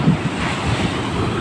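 Sea waves break and wash steadily on a beach in bad weather where boats are pulled up on shore, while strong wind buffets the microphone in a constant, loud roar.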